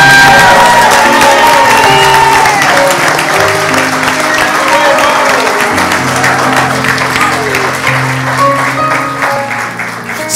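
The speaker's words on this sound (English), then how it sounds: "You better clap a little better than that." Loud audience applause and cheering with whoops and shouts fill a hall, dense and sustained, with voices and music-like tones running underneath throughout.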